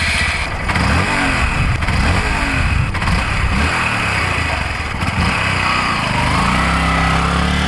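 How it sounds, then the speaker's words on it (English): A Honda Grom MSX125 single-cylinder motorcycle engine with stock exhaust idling and revving nearby, a loud, throbbing, uneven chug with rising and falling pitch. "Still have the stock exhaust on it."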